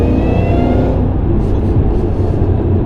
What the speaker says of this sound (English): It accelerates hard.